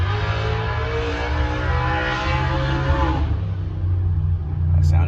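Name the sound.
Gen1 Coyote engine car running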